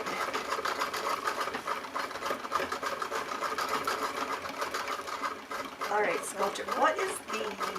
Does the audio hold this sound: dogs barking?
no